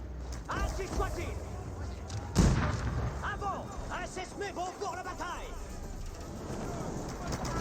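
Cannon fire in an Age of Empires 4 battle between Jeanne d'Arc and Chinese forces, with a single sharp blast standing out amid distant game noise, clattering movement and battle effects, under steady commentary.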